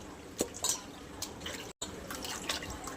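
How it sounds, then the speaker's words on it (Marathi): Squeezed mango peels rinsed in mango juice make wet, squelching, dripping splashes in irregular bursts, close up, with one brief dropout and no talk. "हे जे पिळून घेतलेले साले आहेत ना, हे पण आपण असे धुवून घेणार आहे ह्याच्यात"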